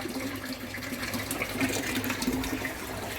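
Water rushing and gurgling steadily as an aquaponics bell siphon floods and drains from the grow bed, a continuous close sloshing flow with a low hum underneath.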